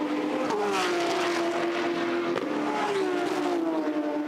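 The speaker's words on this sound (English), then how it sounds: "that glorious Porsche sound here at Mount Panorama" A Porsche GT race car engine wails at Mount Panorama, Bathurst, holding a loud, close, steady high-pitched drone with gear changes dropping and climbing the pitch over a few seconds.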